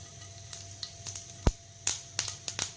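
Cumin seeds hit hot refined oil in a pan, crackling and popping in irregular close pops and sharp snaps over a soft, steady sizzle.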